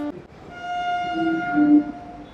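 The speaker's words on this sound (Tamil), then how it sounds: "ட்ரெயின் வருது, நான் காட்டுறேன் உங்களுக்கு." A suburban train pulls into Velachery station in Chennai, sounding a steady, sustained horn over a rumbling rail noise, fairly close and loud, with the horn swelling slightly before fading and no talk.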